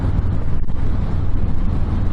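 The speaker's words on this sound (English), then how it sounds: "it's a little bit of a breezy day" Steady, loud low-pitched wind buffeting roars over the microphone while a 2020 Harley-Davidson Softail Fat Boy 114 rides on a breezy day, continuous and unbroken throughout.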